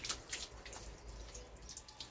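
Water is poured and splashed over a dog during a bath, soft dripping and trickling with a few brighter splashes, faint and close, with no talking.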